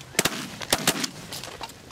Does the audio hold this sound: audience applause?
no